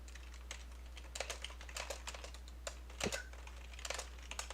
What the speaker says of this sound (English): So it sounds like Jeremy's typing up then